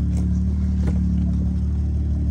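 A BMW N55 engine, fitted with a retrofitted B58TU fuel pump, idles with a deep steady rumble and rises briefly in a short rev, heard close and loud with no voices.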